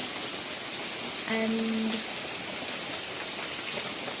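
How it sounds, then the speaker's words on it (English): Sudden rain falling in a village, a steady dense hiss of drops on surfaces throughout, with a brief spoken word partway through. "See, it was such a sudden rain."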